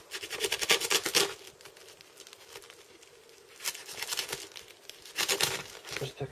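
Plastic packaging of a worm composter delivery being opened, with bursts of crinkling and tearing at the start, middle and end and quieter rustling between, close by with no talk.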